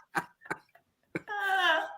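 A man who has been laughing breaks into a short burst of coughs, about three or four close, dry hacks followed by a strained, wheezy laugh.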